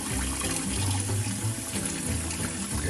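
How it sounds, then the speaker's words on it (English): Cold tap water runs steadily over a boiled egg in a kitchen sink, a close, continuous splashing rush that holds for the whole stretch with no talking. "Now some cold water so that I don't burn myself"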